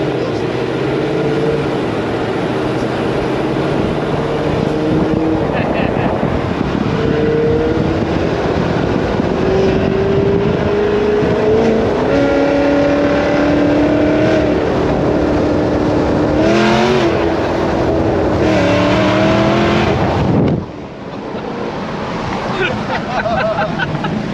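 A cammed Dodge Demon 170 V8 revs hard and loud, its roaring pitch climbing in repeated stepped pulls for over twenty seconds before cutting off sharply, with a lower rumble continuing after.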